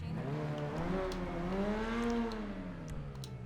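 A Grotti Furia car engine fitted with an exposed mounted exhaust in GTA Online revs and holds a steady, layered drone that rises and falls slightly, loud and close with no talking.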